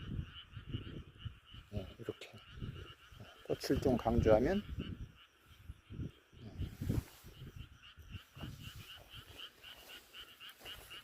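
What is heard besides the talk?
frogs croaking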